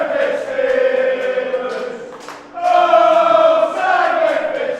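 Crowd at a darts money match venue, a loud sustained roar of many voices with chanting-like tones that dips briefly then surges again, filling the space throughout.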